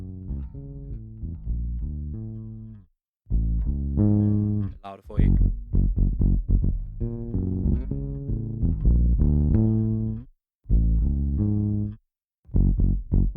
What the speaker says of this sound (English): I received a bass DI from them, which is, it sounds like this.